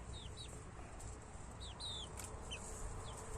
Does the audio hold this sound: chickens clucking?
yes